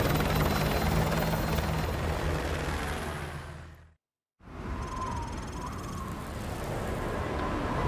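Military helicopter in the Modern Warfare 2 Remastered campaign, a loud steady rotor roar that cuts out briefly midway, then resumes at full strength.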